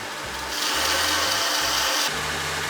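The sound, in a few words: grinder grinding the bevel of a knife blade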